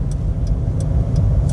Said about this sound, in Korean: 엑셀 밟고.